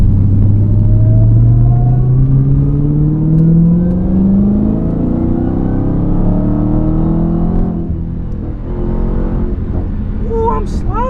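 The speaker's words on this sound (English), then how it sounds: "I'm gonna get pulls though, so y'all can hear the how the car sound right now" A Dodge Hellcat with a Redeye intake and a mid-muffler delete pulls hard, its engine note rising in a long loud climb with supercharger whine, easing briefly and then building again, close and heavy inside the car with a voice speaking over it.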